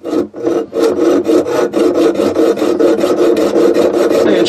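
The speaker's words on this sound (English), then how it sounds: "put my mini hacksaw through here, and I've made my mark right there, and I'm just going to cut right there" A mini hacksaw cuts through soft copper pipe by hand with a steady, rhythmic back-and-forth rasp of quick, even strokes. The sound is loud and close, with no talk.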